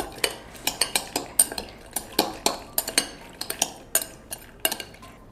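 A utensil stirs salad seasoned with black pepper in a bowl, making quick, close, rhythmic clinks and scrapes against the sides, with no voices.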